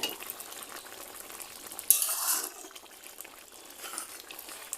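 A simmering dish stirred in a pan on the stove until its water cooks off gives a steady close hiss and soft sizzle, with one brief louder scraping burst near the middle and no talking.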